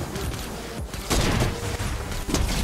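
Gunshots in Fortnite Gun Game mode, a few loud, sharp cracks spaced across a busy, noisy in-game soundscape, close and punchy with no talking.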